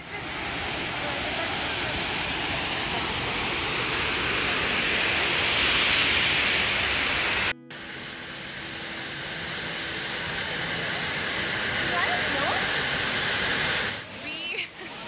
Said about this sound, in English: but we just reached Abbe Falls.